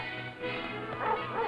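Cattle dogs bark and yip in mesquite brush as they flush hidden cattle out for cowhands on a Texas ranch, muffled and band-limited like an early-1950s newsreel recording.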